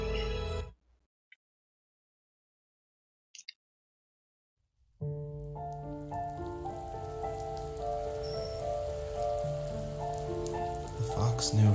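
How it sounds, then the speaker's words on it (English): Rain falling over a valley in the video game The First Tree: a steady, close hiss of downpour starts after a few seconds of near silence, with soft musical tones underneath. "The rain cascaded onto the Jade Valley where the entrance to the tree was."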